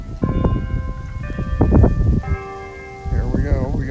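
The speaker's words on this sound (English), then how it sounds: "That bell rings every 15 minutes" A church bell rings out, several resonant strikes with long ringing tones that overlap and fade, clear and moderately loud, as someone speaks underneath.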